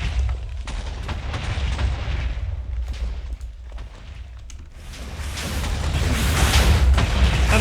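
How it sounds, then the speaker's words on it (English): A Wither spawning explosion in the Minecraft video game: a loud, sustained, rumbling blast that dips briefly in the middle, then swells and roars louder toward the end, with no voices. "What I'm noticing is it's the explosion sound that's the loudest."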